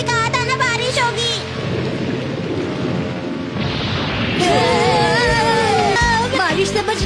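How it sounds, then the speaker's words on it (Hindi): Loud rain pours steadily while deep thunder rumbles, mixed with music and tonal sounds layered over the storm. "मैंने कहा था ना बारिश होगी।"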